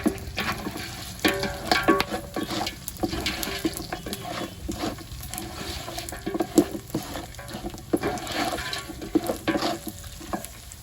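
Pounded pilau masala is stirred in a cooking pot during a village meal, producing a steady close scraping and shuffling with frequent sharp knocks of the utensil against the pot, with no voices.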